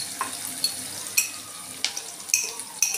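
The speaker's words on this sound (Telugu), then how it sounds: "వేసుకొని కలుపుకోవాలి" Ginger garlic paste is stirred into onions and green chillies frying in a pan, with a steady sizzle broken by sharp spoon scrapes and taps against the metal.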